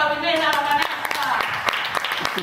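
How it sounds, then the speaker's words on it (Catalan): A street-theatre audience clapping for a performer named Vanessa, a burst of hand claps close by that overlaps the tail of a speaking voice at the start. "un fort aplaudiment a la Vanessa"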